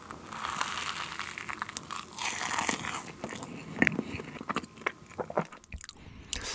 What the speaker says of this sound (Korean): 요게 뭔지 한번 제가 먹어볼게요